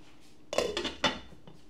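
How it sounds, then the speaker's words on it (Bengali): A lid goes onto a pot of boiling rice for fried chicken pulao with two close metallic clanks about half a second apart, the second sharper, in an otherwise quiet kitchen. "তো এখন আমি এটাকে ঢেকে দিচ্ছি"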